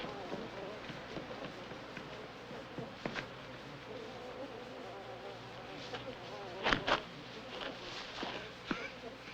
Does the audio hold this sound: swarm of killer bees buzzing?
yes